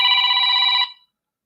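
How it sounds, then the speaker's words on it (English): A telephone rings with a steady, loud electronic trill for under a second, then cuts off abruptly into silence. "Now we got a phone call."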